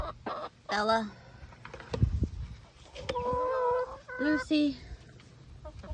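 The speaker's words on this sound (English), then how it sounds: "So these are my chickens. My greedy chickens." Backyard hens cluck and call in short, pitched bursts close by, several birds overlapping, with a person speaking over them.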